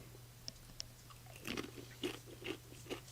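A crunchy homemade spicy snack is bitten and chewed close up, with several distinct crisp crunches in a loose rhythm over a low background hum.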